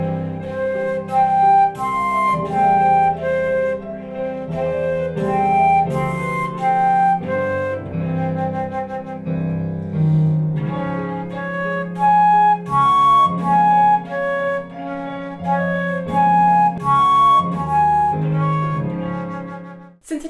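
A flute harmonic exercise played at double speed over a backing track, with steady sustained tones shifting quickly between harmonic pitches, loud and continuous with no talking.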